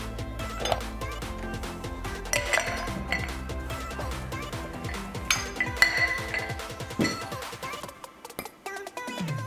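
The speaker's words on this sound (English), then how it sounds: "I'm gonna add ice into a mixing glass" Ice is added to a cocktail mixing glass for a Cosmopolitan, giving a dense run of glassy clinks and clatters, close and fairly loud, with cubes knocking and settling before it tails off.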